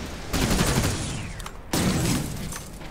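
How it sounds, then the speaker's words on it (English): Automatic gunfire from a Mac 10 or Uzi submachine gun in the video game Terminator: Resistance, two loud sustained bursts of rapid shots separated by a brief pause. "I'm gonna use the Mac 10 this time and see what that is. Or is it an Uzi?"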